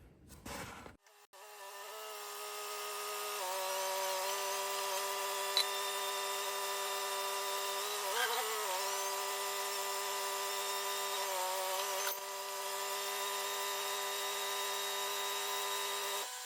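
A milling machine drills out a baler flywheel in a workshop, a steady whining hum with several tonal layers running continuously after a short clatter at the start.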